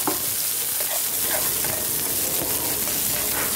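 Chicken pieces sizzling loudly in a pan with sautéed garlic and chili for a monggo and chicken dish, a continuous close frying hiss with occasional stirring scrapes and no talk.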